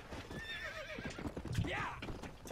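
A horse in the Red Dead Redemption video game whinnies with a wavering, rising-and-falling call while hooves clop in an uneven patter nearby, moderately loud over faint background game sounds.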